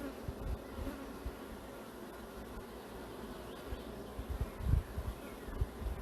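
Honeybees buzz in a steady, dense drone around an open hive frame full of eggs in an apiary, close and continuous, with occasional louder passes of individual bees near the listener.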